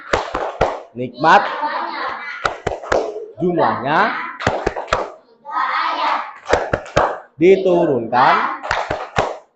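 Children play Tepuk Al-Kautsar, a rhythmic clapping game, in a classroom. Sharp, loud hand claps land in quick patterned clusters between stretches of sung or chanted speech.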